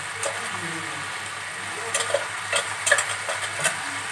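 Boiled chickpeas being stirred with turmeric and other spices in a pan for a Punjabi chana masala, giving soft scraping and light sizzling with a few louder stirring knocks, close and steady.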